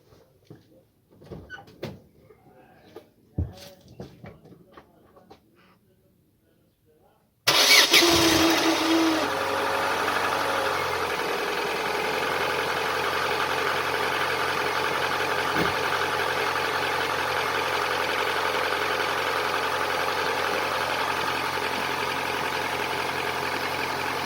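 Opel 1.6 16v petrol car engine after a timing belt and water pump replacement: a few quiet workshop clunks, then the starter catches and the engine settles into a steady, even idle close by for the rest.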